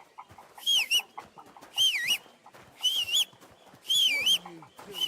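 A character in Kingdom Come: Deliverance 2 whistles a repeated warbling tune in four short bursts, with low talk and game sounds between them.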